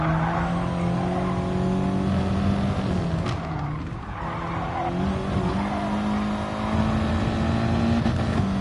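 A race car laps the Red Bull Ring in GT Sport, its engine whining steadily at high revs, dipping briefly as it brakes into a corner, then climbing again, with tires squealing through the turns.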